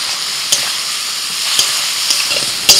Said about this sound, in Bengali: এক চামচ আদা বাটা, আবার একটু অল্প করে হলুদ গুঁড়ো দিচ্ছি, জিরের গুঁড়ো, আর দিচ্ছি লাল লঙ্কার গুঁড়ো